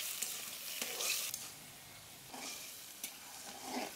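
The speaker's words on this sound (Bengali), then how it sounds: "চল চিংড়ি মাছগুলো দিয়ে দিলাম তেলে।" Peeled shrimp frying in hot oil in a home kitchen for a winter vegetable dish, giving a steady crackling sizzle with occasional clinks and scrapes of stirring, close and fairly quiet, with no talk.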